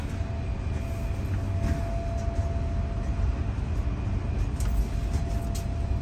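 Steady low rumble and clatter aboard VIA Rail's Canadian passenger train, continuous and even, with faint rattles and a thin whine running through it.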